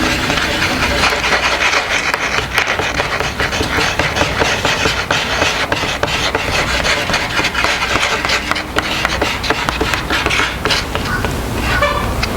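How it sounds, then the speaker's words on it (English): Epoxy being stirred to mix it while making plant markers for fruit trees gives a continuous scraping, rubbing sound with rapid irregular strokes, close and fairly loud throughout. "Just going to use this to mix my epoxy."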